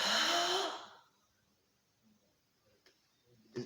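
A sharp, forceful breath bursts out with a kung fu punch in a Jow Ga practice session, one loud close exhale that fades within a second and is followed by near silence with faint breathing.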